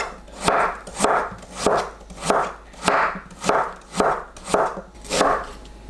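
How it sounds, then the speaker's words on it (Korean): A knife slicing radish into flat squares on a cutting board, a series of about nine evenly spaced crisp chops, each with a short scraping swish, close and clear with no talk. "무 50g을 네모 납작하게 썰어주세요."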